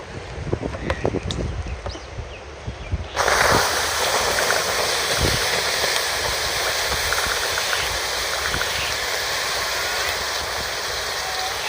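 Water poured onto hot charcoal barbecue embers in a Melbourne park, a loud rushing hiss that starts abruptly after some scattered knocks and stays steady and close for several seconds, with faint voices in the background.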